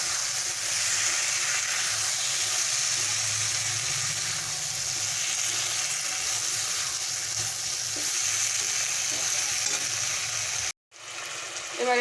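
Pre-fried okra and onion petals tipped into a sizzling spice paste for Bengali-style bhindi do pyaza; a loud, continuous frying hiss with stirring, briefly cut off near the end before resuming.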